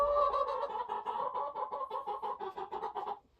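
A chicken clucks close by in a quick, rhythmic run of repeated calls that stops abruptly near the end.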